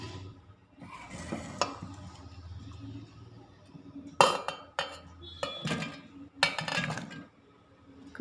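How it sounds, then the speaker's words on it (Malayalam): Cut cucumber pieces are dropped into a mixer jar for juice, giving a few sharp clinks and clatters against the jar with softer handling noises between, close and fairly quiet. "കുക്കുംബർ ജാറിലിട്ട് കൊടുക്കാം."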